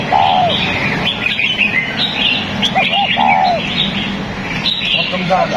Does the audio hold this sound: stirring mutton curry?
no